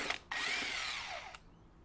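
A power tool, most likely an impact drill, spins a stubborn blade bolt loose on a Craftsman LT2000 riding lawn mower, giving one short whirring burst followed by a longer, steady whine that slows and drops off, with no talk.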